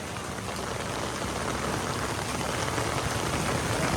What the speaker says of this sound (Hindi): बहुत स्पीड से बारिश है, बहुत तेज बारिश है।